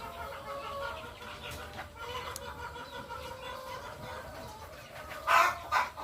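Young layer chicks, about four weeks old, chirp continuously in a brooder, a busy layered peeping with a couple of louder, nearer cheeps near the end.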